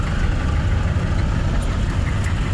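Engines idle in heavy traffic, a steady low rumble filling the whole stretch with no breaks or distinct passing vehicles.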